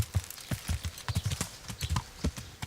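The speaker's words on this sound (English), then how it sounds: "I'm going on the horse." Horse hooves clip-clop at a steady walking pace in the video game Kingdom Come: Deliverance, a run of sharp, evenly spaced knocks heard close up without talk.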